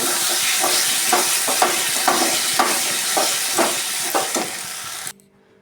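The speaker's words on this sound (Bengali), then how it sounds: "এই আলুগুলো দিয়ে আবার একটু ভালো করে আমি কষিয়ে নেব" Fried potatoes are stirred into a spiced masala in a pan for a Bengali egg dal, giving steady loud sizzling with repeated scraping strokes of a spatula about every half second, then stopping abruptly.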